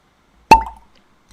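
A cork pops once out of a whiskey bottle, a sharp close plop followed by a brief ringing tail, set against near silence.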